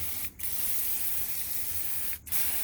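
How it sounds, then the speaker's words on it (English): A sprayer blasts water onto a wooden military-surplus gun stock to wash lye out of the grain, a loud continuous hiss broken by two brief pauses. "You want to spray it and then spray it again and then spray it some more."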